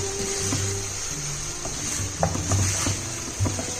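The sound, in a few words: stirring tomato and onion mixture in a pan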